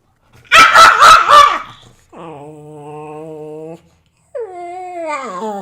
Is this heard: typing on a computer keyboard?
no